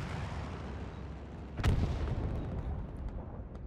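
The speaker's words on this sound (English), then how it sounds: "That sounded like artillery." One dull, distant artillery boom from a Hell Let Loose tournament match rises out of a constant rumbling battlefield background, with no talk over it.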